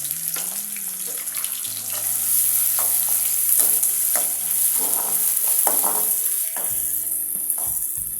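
Onions hitting a hot pan for bitter gourd curry, a sizzling fry with stirring scrapes, along with a running tap and some kitchen clatter and a low hum, no talk.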